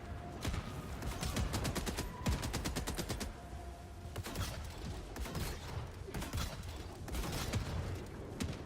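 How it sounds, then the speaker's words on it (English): Automatic weapon fire in the video game Helldivers 2, fast rattling bursts repeating again and again over a busy battle background, fairly distant and moderate in level. "What are you shooting at back there?"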